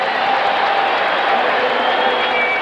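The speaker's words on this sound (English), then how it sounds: "The crowd loves it." Football stadium crowd at a 1987 Saints–Houston Oilers game roaring steadily after a good defensive play, a dense sustained cheer with no breaks, loud and broad.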